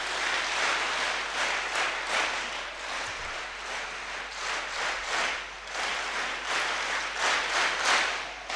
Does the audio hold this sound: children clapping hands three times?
yes